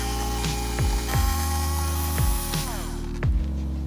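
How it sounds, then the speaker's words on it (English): Screws being backed out of the nozzle mount on a DJI Agras T100 agricultural spray drone, a quick run of close ratcheting clicks and whirs repeating about every half second, with no talk. "All we're going to do is we're going to come right here and screw these."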